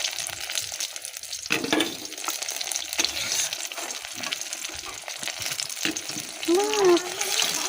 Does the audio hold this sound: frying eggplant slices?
yes